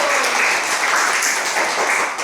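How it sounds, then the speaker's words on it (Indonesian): Schoolchildren in a primary classroom give a round of applause, a dense, steady wash of many small hands clapping together, loud and continuous throughout. "Oke, tepuk tangan dulu."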